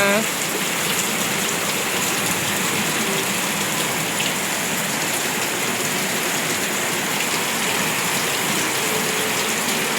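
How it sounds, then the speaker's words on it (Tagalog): Heavy rain pours steadily, a dense even hiss of drops on surfaces, close and constant throughout. "Magdamag na naman po itong ulan mga kapiks."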